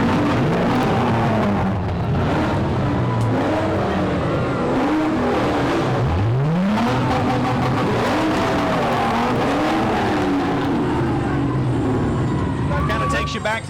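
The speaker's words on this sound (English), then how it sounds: "Let's take a second just to kind of listen to those engines rev." Ford Mustang muscle cars from a 5.0 owners' club rev their V8 engines loudly at a street parade, the pitch rising and falling in repeated swells with a sharp climbing rev midway, while people talk in the background.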